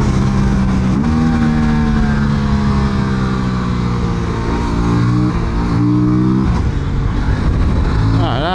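Aprilia RS457 motorcycle engine pulling hard while ridden, loud and close, with rising revs climbing through several gear changes and brief dips between shifts, wind noise over it.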